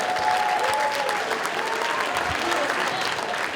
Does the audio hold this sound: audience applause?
yes